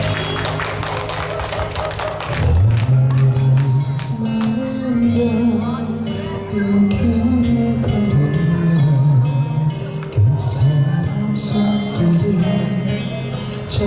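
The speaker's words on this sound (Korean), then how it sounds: "박수 한번 주시겠습니다." At an outdoor busking performance, the audience claps along with a singer and backing music, the claps sounding as steady rhythmic taps beneath the louder song.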